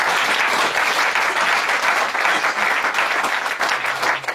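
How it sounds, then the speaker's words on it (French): Church congregation breaking into loud, dense, continuous clapping that fills the room evenly throughout, with no voices standing out above it. "Donnons une acclamation."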